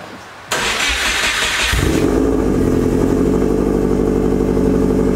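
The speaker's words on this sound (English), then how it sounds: "I'll go ahead and give her a cold start" A Subaru WRX with an Invidia N1 exhaust cold-starts after a moment of quiet: a brief starter crank, then the engine catches with a loud high idle. It settles into a steady, rumbling idle close to the microphone, with no talking.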